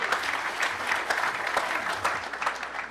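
At a San Francisco AI startup demo night, the audience gives a round of applause for a presenting company, a moderately loud patter of clapping with a few sharper claps standing out, steady for a few seconds.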